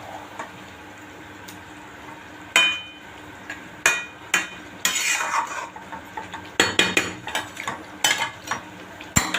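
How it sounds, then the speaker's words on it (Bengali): Chicken pieces stirred and sautéed dry in a pan, without water, with a spoon repeatedly scraping and clacking against the metal over a faint background sizzle, irregular close clanks through the stir. "চিকেনটা এইভাবে কষবে।"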